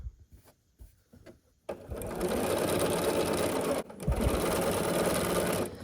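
After a few soft handling clicks, a sewing machine starts up and runs in a steady close whir as quilt pieces for a nine-patch block are stitched together, pausing briefly once before continuing.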